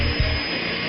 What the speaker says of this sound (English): why in the world would he destroy 2 locks with a drill